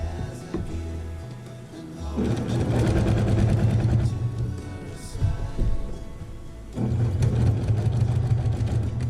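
A sewing machine stitches around the edges of a quilted Christmas tree skirt about 58 inches wide, running in close, steady bursts with a short pause between stretches of rapid stitching.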